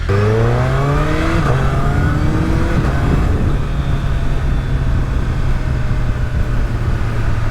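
A Suzuki Hayabusa Gen 3 25th Anniversary Edition engine rises in pitch through the gears while being ridden, then settles into a loud, steady drone. Heavy wind rush runs underneath it throughout.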